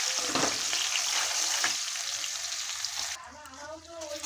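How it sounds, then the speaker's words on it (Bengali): Onions frying in oil with whole garam masala for a mutton curry: bright close sizzling and stirring scrapes, fading after about three seconds into a quieter background with a faint tonal hum. "পেঁয়াজটা এখন ভেজে নেবো লাল করে"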